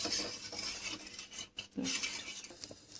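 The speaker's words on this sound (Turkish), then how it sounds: "Şöyle karıştıralım. Ocağa koyacağız." Flour halva in a pot on the stove is stirred with a spoon, giving soft scraping and clinking strokes with a short pause in the middle.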